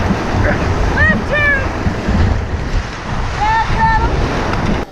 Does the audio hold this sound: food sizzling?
no